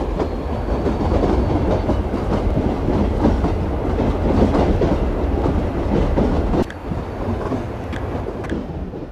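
Indian local commuter train in a simulator game slowing under braking, with a loud continuous rumble of wheels and carriages and a rhythmic clatter that drops away slightly near the end.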